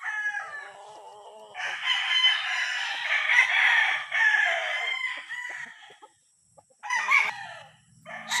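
A White Kelso cross gamecock rooster, eight months old, crows loudly and close by in one long sustained call, then gives a shorter crow after a brief pause.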